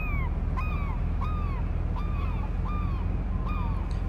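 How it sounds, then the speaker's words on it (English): Seabirds call repeatedly in the Fishing Planet video game, a steady series of descending cries about every half second over a constant low ocean rumble, with no talking. "there's more birds over that way"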